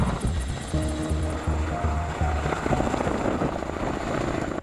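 A US CH-47 Chinook military helicopter running close by, its rotors producing a loud, steady rhythmic thudding over a dense turbine roar.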